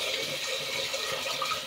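Steady rushing hiss of water pouring into a pot, continuous and fairly close, with no voices.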